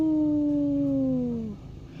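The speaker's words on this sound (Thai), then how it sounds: "และแล้วมันก็กลับมาหอนอีก" A single long, sustained dog howl at night with a slowly falling pitch that fades out after about a second and a half, heard alone.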